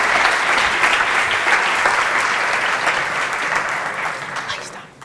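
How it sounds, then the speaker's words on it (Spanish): Lively applause from a crowd at an event with games, clapping fairly close and continuous, tapering off toward the end with some voices mixed in. "aplauso para ella"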